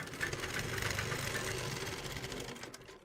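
A sewing machine runs continuously, stitching the centre seam of an Afghani salwar, its fast even whir steady and close before slowing toward the end.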